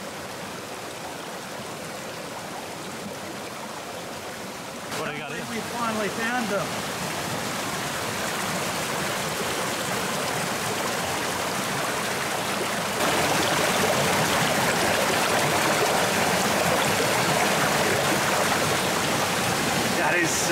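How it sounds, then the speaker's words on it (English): A giant waterfall roars as a steady, broadband rushing wash near a forest spot, growing louder partway through, with a person speaking briefly over it. "there's a giant waterfall just down here."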